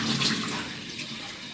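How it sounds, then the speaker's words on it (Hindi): Water runs into chutney in a blender jar, giving a short, close, splashing pour that fades over under two seconds. "और सिरका डाल देंगे और इसके अंदर थोड़ा सा हम पानी डालेंगे"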